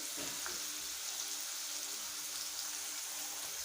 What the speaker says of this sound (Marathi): कांदा पण छान परतून घ्यायचा कांदा थोडा परतत आला लालसर रंग आल्यानंतर यात सुके मसाले घालायचे